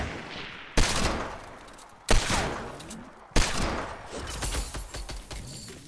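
Fortnite gunfire rings out in three loud sharp volleys, each cracking sharply and then decaying into echoing rattles and scattered debris before the next burst.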